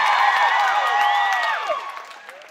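Audience of women screaming and cheering at a Christian pop concert in Nashville, high-pitched shrieks and whoops layered over one another, loud at first and gradually fading out.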